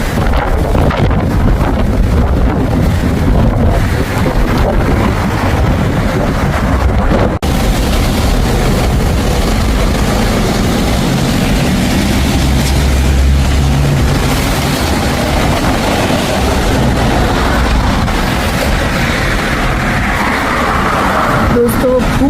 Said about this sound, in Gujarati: પુષ્કળ પવન આવી રહ્યો છે, આપ જોઈ શકો છો. અને વરસાદ પણ ચાલુ થઈ ગયો છે.